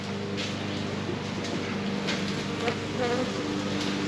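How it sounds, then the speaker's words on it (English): Bees from a live package hum and buzz continuously at a low level during hive installation, with individual insects passing close now and then. "we get the bees ready"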